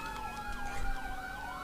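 A wailing ambulance siren in the Roblox game ER: LC sweeps up and down over a steady synthetic hum, continuous and fairly prominent, with a slightly artificial, game-like tone.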